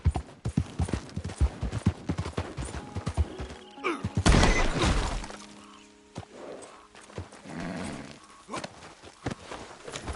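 A horse gallops in a PS4 video game, its rapid hoofbeats pounding close and loud with a sharp rushing burst partway through, then the hooves continue more softly.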